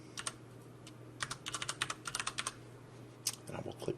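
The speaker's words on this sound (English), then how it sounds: "so I'll type those here" Username and password typed on a computer keyboard: a quick run of crisp, close keystroke clicks in uneven bursts, with a steady low hum underneath and a slightly louder tap near the end.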